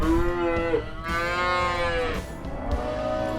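A cow bawls loudly and close by in long, drawn-out moos in a herd of cows and calves, with another lowing call overlapping near the end.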